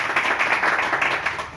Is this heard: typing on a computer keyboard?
no